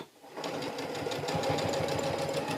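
An industrial sewing machine stitches in reverse while backing up over a D-ring, a steady, close mechanical whir with a rapid needle rhythm running throughout.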